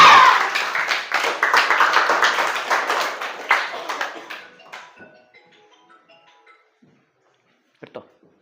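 Students in a classroom clap together in a lively burst of hand claps that fades out after about four seconds, leaving sparse taps and a brief final clap near the end.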